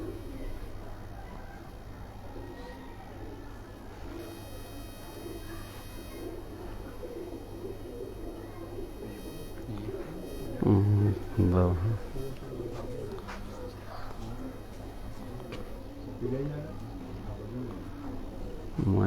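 Pigeons coo softly on a rooftop in a low, repeated throaty murmur, partly buried under steady background noise, with people talking nearby.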